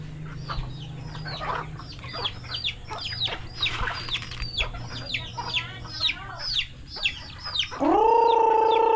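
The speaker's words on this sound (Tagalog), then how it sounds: "Oh, hindi pa naglayasan na yung mga manok." Farmyard chickens cluck and squawk in quick, busy bursts at close range in a rural provincial setting, with a rooster's loud crow breaking in near the end.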